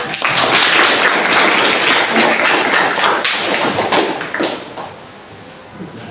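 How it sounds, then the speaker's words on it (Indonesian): A burst of clapping from a group, loud and dense at first, then thinning out and fading away. "Tepuk tangan untuk Pak Rik."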